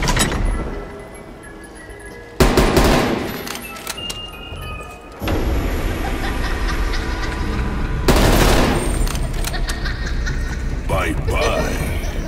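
A sentry turret fires in Call of Duty Cold War Zombies, loud bursts of rapid gunfire separated by quieter gameplay noise, with a game voice speaking.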